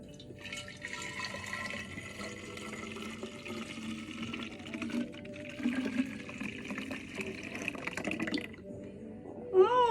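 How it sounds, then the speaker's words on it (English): Homemade oat milk poured into a glass jar, a steady liquid gush running close and continuous for several seconds before a brief sharper sound at the end. "I'm gonna pour my milk up in there."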